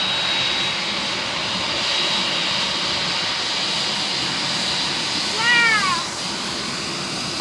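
Boeing 747 engines roar as a steady, loud broadband rumble and hiss, with a brief high whine rising and falling near the end, no speech over it.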